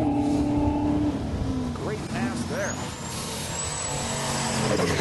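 A Ford Mustang races down the drag strip at Heartland Park in Topeka during Drag Week, its engine a loud, sustained roar with a rising whine, heard beneath a commentator's voice and crowd noise.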